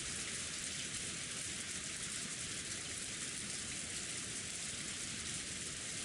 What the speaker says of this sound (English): letting the rain quietly fall on him